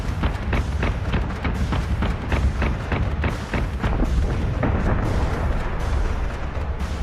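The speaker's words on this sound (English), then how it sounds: "Good explosions, too." Dense, continuous barrage of booming explosions and heavy cannon-like fire from a space battle in the strategy game Battlestar Galactica Deadlock, loud and rumbling with repeated sharp blasts as a capital carrier ship goes down.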